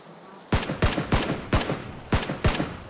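Rapid gunfire in the PlayerUnknown's Battlegrounds video game cracks out in sharp bursts, about seven loud shots in two quick clusters with short gaps, each followed by a brief echoing tail.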